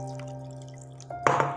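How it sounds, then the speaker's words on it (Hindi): Water is added into a mixed batter of warm milk, eggs and flour, a brief splashing pour arriving near the end after a steady tonal hum. "अब इसके अंदर मैं ऐड करूँगी पानी"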